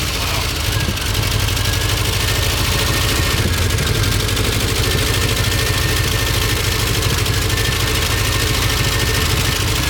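A Porsche 924 Turbo engine runs loud and rough nearby, misfiring and unsteady as it picks up cylinders, with a constant noisy drone throughout.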